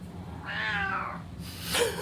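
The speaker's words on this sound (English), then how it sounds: "we don't know what's happening with this cat today. It's rambunctious." A rambunctious house cat meows twice close by, the first a long, bending cry and the second shorter and rising, with no talk over it.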